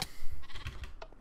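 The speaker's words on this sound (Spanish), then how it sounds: "¿Por qué coño hay ovejas quejándose de todo, en serio?" Sheep in Minecraft let out wavering bleats, several overlapping cries in quick succession at moderate volume with faint clicking in the background.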